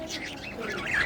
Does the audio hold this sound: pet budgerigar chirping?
yes